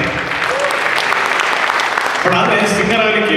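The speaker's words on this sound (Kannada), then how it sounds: "ಚಪ್ಪಾಳೆ." An audience applauding at an event, a dense steady clapping that carries on throughout and shifts in tone partway, with a voice heard over it.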